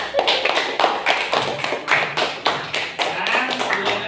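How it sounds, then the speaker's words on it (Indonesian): Classroom applause for a student group, a roughly steady run of claps with slightly irregular rhythm, fairly close and moderately loud, carrying on for several seconds with no speech over it. "Tepuk tangan buat kelompok 2"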